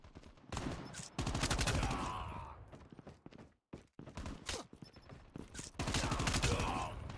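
Gunfire in Call of Duty Mobile multiplayer, heard as loud, dense volleys of rapid shots in long bursts with brief gaps, including sniper fire within the battle noise.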